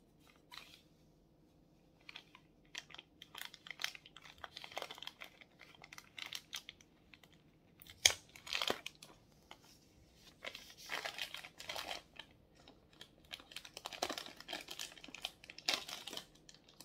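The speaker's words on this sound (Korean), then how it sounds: "비닐을 뜯겠습니다." Plastic film wrapping on a Igojin home stepper is torn and peeled open, producing a steady run of close crinkling and ripping bursts, louder near the middle and end, with no talking.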